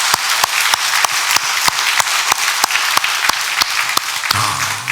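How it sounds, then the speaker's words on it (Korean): A church congregation applauds during a Christmas service, a steady wash of clapping with sharp, evenly spaced claps standing out in a loose rhythm, loud and close throughout. "오늘 영광의 박수를 돌려야 될 줄 믿습니다."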